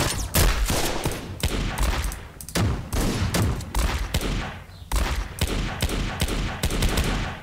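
Repeated shotgun blasts from a modded GTA San Andreas weapon sound pack, loud and close, firing in quick succession with brief gaps between bursts.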